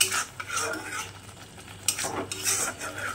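Fried paneer is stirred into simmering butter masala gravy with a metal spoon, giving soft scraping and clinking against the pan alongside a faint sizzle, close and quiet with no talking.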